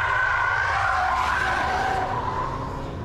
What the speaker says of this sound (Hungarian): És óriás csikorgást hallok.